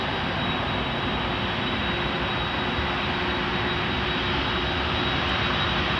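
Cargolux cargo jet waiting to taxi at Toronto Pearson Airport, its engines giving a loud, constant whine and roar with a thin high tone running through, no voices.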